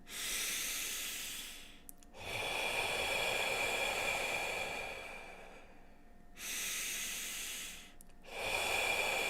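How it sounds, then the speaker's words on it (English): Slow, deep breaths during a guided relaxation session, each long airy inhale and exhale rising and fading in turn, close and fairly quiet, with no talking. "we're going to take 3 deep breaths in, 3 deep breaths out."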